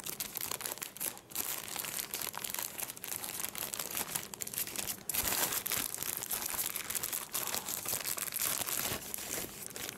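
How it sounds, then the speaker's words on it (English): Continuous crinkling and tearing of a sealed paper envelope taken from a TP-Link AC1900 touch screen router box, close and steady, with a louder rip partway through and no talking. "here is like a sealed envelope, and looks like you can just open it this way without using the scissor"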